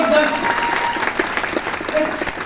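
Audience applause at a MODICARE event in Sai Auditorium, New Delhi, honouring Manoj Malik: steady, dense clapping fills the hall throughout, with a faint voice over it.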